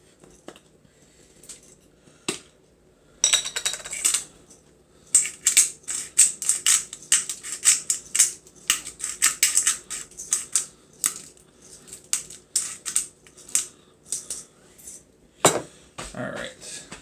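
Salt and pepper being freshly ground for a roast turkey, a grinder's rapid gritty clicks and crunches coming in bursts, close and fairly loud, with a few scattered knocks and short pauses between twists.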